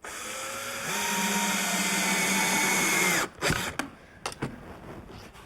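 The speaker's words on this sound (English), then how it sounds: "I'll keep drilling the holes up and then add the second piece" A power drill whines steadily for about three seconds while it bores holes in a wooden storage chest, then stops, followed by a few sharp knocks and clatters.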